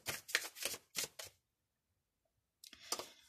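Close, crisp bursts of cards being shuffled in quick riffles, a pause of silence, then another round of shuffling.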